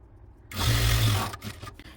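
A sewing machine stitches a ready-made neck patch onto a nightie, a steady whirring run of about a second that starts abruptly, then slows and stops, followed by faint handling noises.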